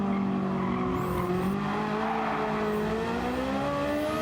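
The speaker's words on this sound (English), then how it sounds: "this car does sound really nice" In Gran Turismo 7, a car engine with high-lift camshafts screams through rising revs and gear changes, loud and continuous with tire squeal, no voices.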